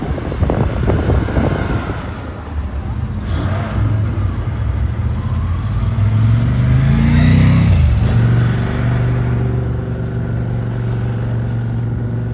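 Classic cars, including a Ferrari 250 GT Lusso, pass in the distance, their engines rising into a low drone that swells and fades, partly buffeted by heavy wind noise on the microphone.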